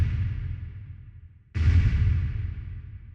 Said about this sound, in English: it's going into this amp, which sounds like this